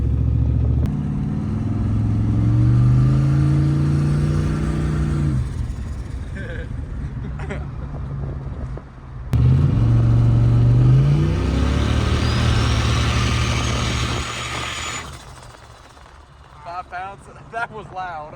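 A 550+ HP turbocharged police car accelerates hard and loses traction, its engine roaring and climbing through two loud, close runs with a brief drop between them before easing off; voices talk over it.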